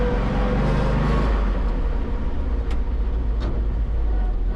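Engine of a 1939 Ford truck running steadily with a deep low rumble, continuous and fairly loud throughout as it is double clutched, with a couple of brief higher transient clicks near the end.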